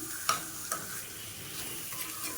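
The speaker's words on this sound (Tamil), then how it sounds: "இப்போ இதில் நான் வந்து கருவாடை வந்து சேர்த்துக்கிறேன்" Dried fish is added to sautéed onions frying in a pan, giving a quiet, steady sizzle with two sharp clicks from stirring early on and softer scraping afterward.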